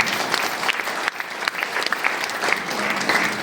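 A business gathering breaks into hearty applause for a mentor, a crowd of hands clapping continuously at moderate loudness, with a short dip around the middle before it swells again.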